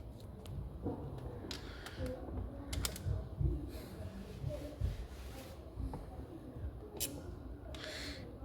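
A ratchet tightens glow plugs on a Mercedes B180 engine, giving faint, quick clicking runs and mechanical ticks with soft background noise and low murmuring.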